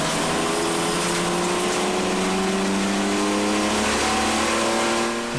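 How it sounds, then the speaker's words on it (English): A V6 fuel-injected race car engine recorded onboard during a retro motorsport race, revving loud and steady with rising and falling pitch sweeps as the car accelerates through gears, alone without talk. "to that V6 fuel injected engine Sing"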